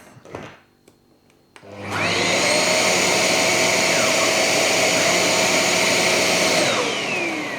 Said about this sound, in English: Now this vacuum has 3 modes.